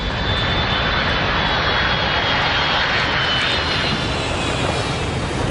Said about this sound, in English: And there goes the plane to Landstuhl.